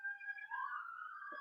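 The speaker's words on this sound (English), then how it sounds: "Man, loud ambulances every day, all day lately, driving by." An ambulance siren passes along a street near a hospital, a steady wailing tone that slides downward as it goes by, moderately loud with a faint thump near the end.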